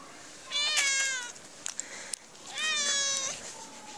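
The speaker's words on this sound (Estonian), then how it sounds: "See on üks naabruskonna kass" Two clear, fairly loud meows from a neighbourhood cat, a second apart, with a few soft clicks between them in a quiet room.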